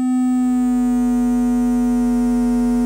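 Steady tone from a BMC120 digital VCO synthesizer module with its frequency raised, a constant buzzy pitched drone with strong harmonics, loud and continuous with no talking.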